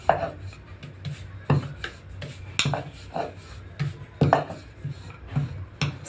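A rolling pin works veg momo dough on a board, producing soft rhythmic thumps and rubbing strokes, roughly every second, close and moderate in volume with no talking.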